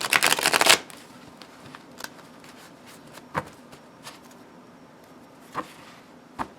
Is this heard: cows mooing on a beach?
no